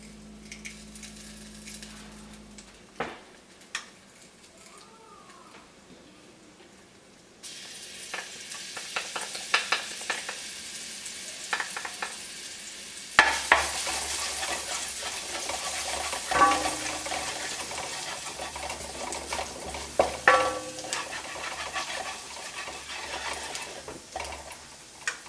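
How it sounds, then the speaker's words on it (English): Garlic sizzling in butter in a pan on low heat: a soft steady crackle that builds partway through, then becomes a fuller sizzle punctuated by occasional stirring clicks. "Make sure that your pan is on low heat when you add the garlic."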